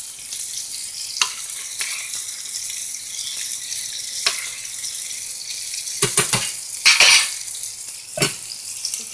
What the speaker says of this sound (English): in the meantime, I can sear my rice a little bit